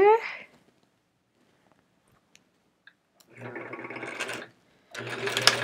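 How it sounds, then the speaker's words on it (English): A sewing machine stitching binding onto a sampler quilt, running in two short bursts of steady mechanical whirring close up, with quiet gaps and a little speech just before. "I'm going to sew up to that point that I marked"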